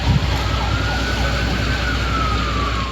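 Emergency vehicle sirens wail steadily at an apartment block fire in Clayton South on Christmas night, a continuous rising-and-falling tone heard at moderate distance over a constant low rumble of traffic and street noise.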